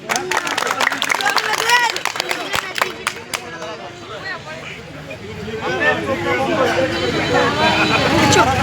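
A crowd at an event claps in a brief burst of applause amid chatter, then the clapping fades as talking and crowd noise carry on before a magic act.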